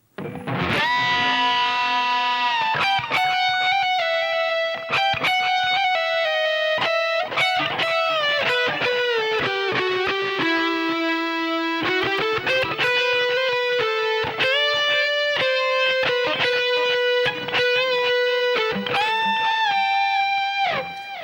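A distorted electric guitar plays a sustained solo from Sweet Child O' Mine, with bent and held notes sliding in pitch, loud and alone without accompaniment.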